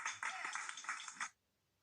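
A small audience at a children's music awakening class claps in a quiet, somewhat uneven patter for over a second, heard from a distance, then falls silent.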